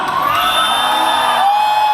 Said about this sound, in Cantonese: 不如呢個時候再俾多啲掌聲、歡呼聲我哋14強好唔好啊